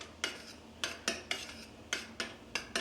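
A utensil scrapes and clinks against a cooking pot as syrup is stirred on the stove, about ten quick rhythmic strokes close up with no talking.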